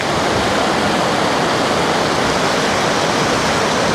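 Heavy rain falling at a riverside wild camp, a dense, loud, unbroken hiss of downpour with no pauses or voices.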